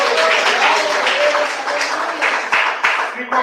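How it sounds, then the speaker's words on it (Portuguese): A church congregation claps hands during a worship service, with dense clapping and voices mixed in, growing into a few sharper, louder claps toward the end. "Me bate mais palmas."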